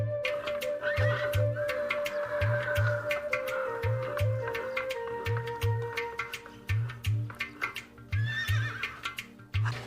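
A Kakka-bloodline horse in Pakistan neighs in drawn-out whinnies while steady, rhythmic hoof clops repeat underneath throughout, close and fairly loud.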